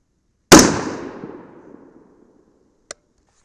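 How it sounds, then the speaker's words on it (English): A single loud rifle shot at a target on a range, fired from a scoped rifle, cracks sharply and rolls off in a long decaying echo, followed by a faint distant impact pop about two seconds later. "I am going to shoot at the center dot and hopefully that's where our bullet will land."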